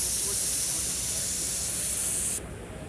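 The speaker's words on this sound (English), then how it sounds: "keep it as close to the deck as you can, and now trigger it, now spray." A spray gun hisses steadily as paint is sprayed onto a car hood, a loud, continuous broadband rush that drops off abruptly near the end.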